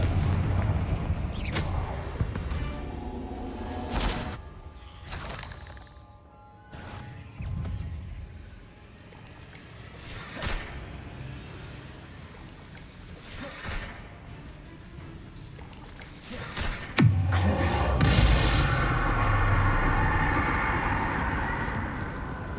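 Confringo blasting spell explosions in Hogwarts Legacy, loud booming blasts and crackling bursts in repeated bouts over game sound effects, with a heavier, sustained rumble toward the end.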